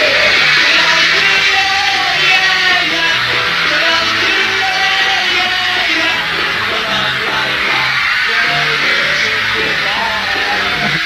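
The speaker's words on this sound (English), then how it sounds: "Can't hear them singing because everybody's screaming so much" A concert crowd screams and yells continuously and loudly in a dense wall of shrieking voices, swamping any singing, with faint musical tones underneath.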